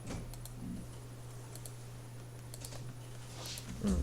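Keystrokes on a computer keyboard entering commands in CAD software for 2D injection mold design, sparse light clicks spread through the stretch over a steady low hum, no talking.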